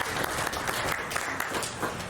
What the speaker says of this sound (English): Give Ayah a round of applause